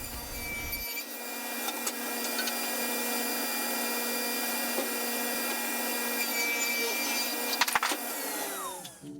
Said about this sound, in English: Here I'm just ripping this wider pine board down into framing pieces